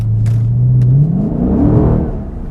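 A 2009 Dodge Challenger SRT8 with a 6.1-litre V8 and Magnaflow exhaust revs up loud and close, a deep rumble climbing in pitch and then falling back.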